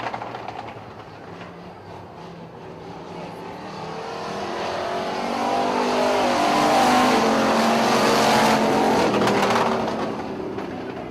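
Hobby stock race cars roar around the track during a heat race, a dense engine drone that swells as the pack draws near, peaks, then eases off slightly, with no talking.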